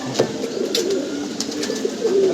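Pigeons in a fancier's loft cooing close by, with repeated soft, throaty coos and a few brief rustles and clicks; no one speaks.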